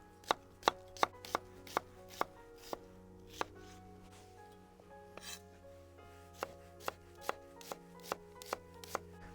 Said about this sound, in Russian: Нарежем лучок полукольцами.